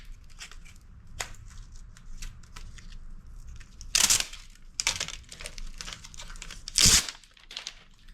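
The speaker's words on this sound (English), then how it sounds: "let me get this piece of plastic off here and show you" A piece of plastic is pulled and torn off a flat-screen TV circuit board during scrapping, giving crinkling, rustling handling with two sharp tearing bursts, close and fairly quiet.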